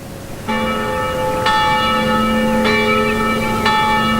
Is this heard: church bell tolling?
yes